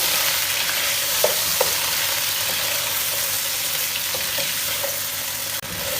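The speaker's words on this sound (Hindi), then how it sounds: "इसके अंदर हम ऐड करेंगे 1 kg मीट, बीफ लिया यहाँ मैंने। और इसको हमने अब करना पहले अच्छी तरह से ऑयल के अंदर फ्राई" Beef frying in oil in a pot, a steady close sizzle with faint stirring clicks now and then and one sharp knock near the end.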